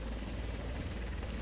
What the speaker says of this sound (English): Oh, another helicopter.